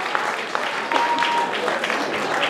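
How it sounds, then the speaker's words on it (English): Applause from a crowd at a bikini class fitness competition, a steady broadband patter of clapping with a few cheers rising above it, sustained and fairly loud throughout. "give them all a big round of applause"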